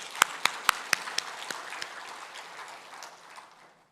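A church congregation at a Sunday worship service claps briefly on request, starting with several distinct loud claps and quickly fading into softer, scattered applause that dies away.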